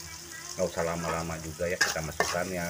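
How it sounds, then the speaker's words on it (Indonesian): Eggplant and salted fish stirred in a hot pan for a spicy Indonesian stir-fry, steady sizzling frying with scraping stir strokes and a couple of sharp clinks, under someone talking throughout. "diaduk ya sekitar beberapa menit"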